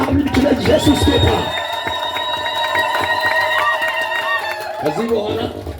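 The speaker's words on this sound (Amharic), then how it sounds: "ጭብጨባችሁ ጩኸታችሁ ለአምላክ ለኢየሱስ ጌታ።" An Ethiopian church congregation claps and shouts for Jesus, loud and close, in a burst of cheering and chatter that gives way to sustained keyboard-like tones under a steady crowd murmur.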